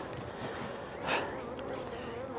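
Dense buzzing of many honeybees being shaken from a frame into a hive body close by, a constant droning hum with a brief louder swell in the middle.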